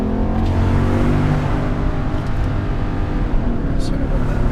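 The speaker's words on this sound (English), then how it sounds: "It just sounds so good on throttle, especially with one of those windows cracked." Engine of a 2016 Nissan Titan XD pickup with the 5.6L Endurance V8, heard from inside the cab on throttle with a window cracked: a steady, loud low rumble that holds throughout, with a person talking over it.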